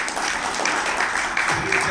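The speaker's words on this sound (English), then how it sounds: "I think he deserves a big round of applause." Meeting audience at an area AGM applauds in a short, continuous burst of clapping, with voices mixed in underneath.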